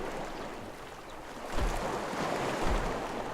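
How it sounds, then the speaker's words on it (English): Ocean waves around an island in the dungeon game Legend of Grimrock II, a soft continuous wash of surf with two low swells of incoming breakers, heard in the background without voices. "now I can hear the waves in the background"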